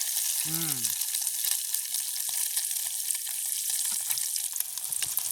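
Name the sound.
eggs frying in a pan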